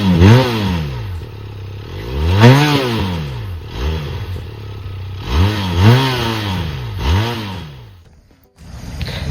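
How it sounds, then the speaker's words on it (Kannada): A 2025 Benelli TRK 502 motorcycle is revved repeatedly, each blip rising and falling in pitch as the twin-cylinder exhaust barks close by, with idle between throttle bursts and a brief dip near the end. "ಸೊ ಬನ್ನಿ ಈಗ ಎಕ್ಸಾಸ್ಟ್ ನೋಟ್ ಹೇಗಿದೆ ಅಂತ ಚೆಕ್ ಮಾಡೋಣ."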